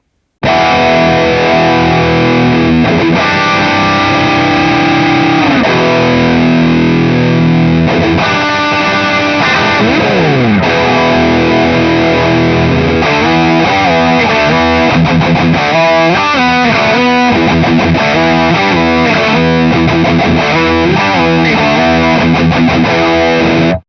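Electric guitar played through a Marshall Studio 900 tube combo amp on a distorted channel, loud and continuous: sustained chords, a pitch slide near the middle, then choppy palm-muted riffing toward the end.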